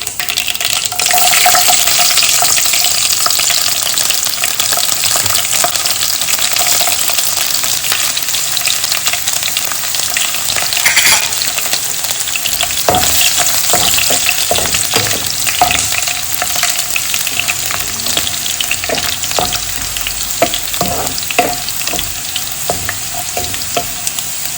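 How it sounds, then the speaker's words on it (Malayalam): Garlic frying in hot oil with popping mustard seeds for a home pickle, a steady loud sizzle with scattered sharp crackles and pops throughout, no voices. "കടുക് പൊട്ടിക്കഴിയുമ്പോൾ നമുക്ക് അതിനകത്തേക്ക് ആവശ്യത്തിനുള്ള വെളുത്തുള്ളി ഇട്ട് കൊടുക്കാം."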